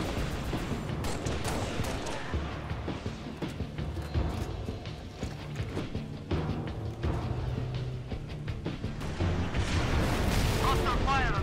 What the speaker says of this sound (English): Hostile fire on my position.